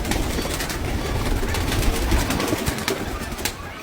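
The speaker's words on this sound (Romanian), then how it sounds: "Porumbei nu zboară, nu merg la concurs, nu-i dau la concurs de fapt." Pigeons kept by a family as a hobby coo in low, soft murmurs, several birds overlapping steadily and close by, with a dense rustling background and no talk.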